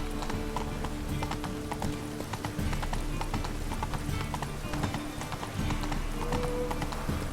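Horse hooves in The Witcher 3 video game, a steady clip-clop of galloping, close and continuous over a low game ambience, with a brief voice mixed in.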